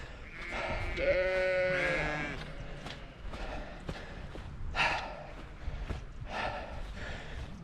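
Sheep on open hill country bleat nearby, first a long wavering call and then shorter bleats, with someone talking and wind in the background.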